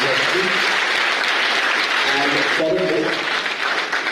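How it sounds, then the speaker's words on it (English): Conference audience applauding a doctor at an academic session, a full, sustained burst of clapping from a large room while a presenter's voice continues over it. "Can we all have a big round of applause for Dr."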